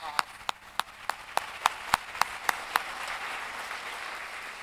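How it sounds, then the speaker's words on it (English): Applause greets the finalists at a youth speech competition: about ten sharp, evenly spaced claps from one person stand out near the microphone, and a softer spread of clapping from the room builds and lingers behind them. "Let's give them a round of applause."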